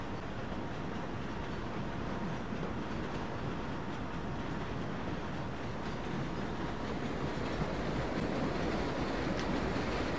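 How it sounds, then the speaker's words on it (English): A long New York subway train on the Flushing local line runs along rails in the World of Subways 4 game, a continuous rumbling roll with faint rhythmic clatter, steady throughout. "this is one long snake of a train"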